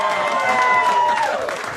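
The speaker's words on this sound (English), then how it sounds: "How about a round of applause for Mr. Walter David Anthony Gerard with my Rogan Dombrowski" Festival crowd at a polka music event applauding a polka drummer and hall of famer, a steady wash of clapping and cheering for under two seconds, with a voice faintly over it.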